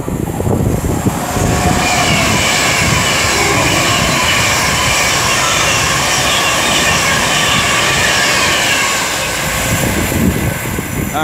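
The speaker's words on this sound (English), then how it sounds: "now approaching will be 39154 for Avanti West Coast, working 1 Sierra 63 from London Euston to Glasgow Central" An Avanti West Coast train running from London Euston to Glasgow Central approaches Rugby station on the West Coast Main Line, with a loud, steady, close rumble and roar that fills the whole stretch.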